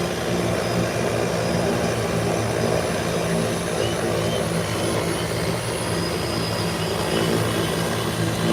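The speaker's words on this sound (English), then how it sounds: "Here comes turbo-powered Cessna Caravan." A turbine-powered Cessna Caravan seaplane with a variable-pitch propeller flying past at a seaplane fly-in, a continuous loud droning roar with a rough, throbbing texture that stays steady throughout.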